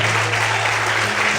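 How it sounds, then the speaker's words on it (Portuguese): A church congregation claps in steady, dense applause at an evening service, the sound loud and close, with a low sustained hum running beneath it. "Aplauda o Senhor nessa noite."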